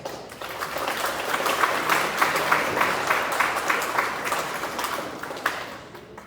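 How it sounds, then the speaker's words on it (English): Audience applause at a middle school spring concert, a steady crowd of clapping that rises and holds throughout, moderately close with scattered louder claps. "Let's give her another applause."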